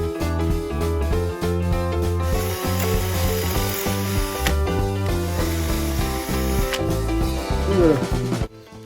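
An electric drill spins a small wooden piece against sandpaper, giving a steady, close whirring and rubbing sound that runs continuously and cuts off abruptly at the end.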